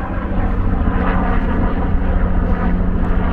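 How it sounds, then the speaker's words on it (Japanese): A helicopter passing overhead produces a loud, steady droning engine roar that continues unbroken, with no talking. "こっちからのヘリコプターが"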